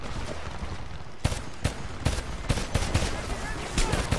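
Bursts of gunfire from a shootout in the video game Homefront, sharp repeated cracks in irregular volleys over a continuous rumbling battle background, with soldiers shouting faintly under the shots.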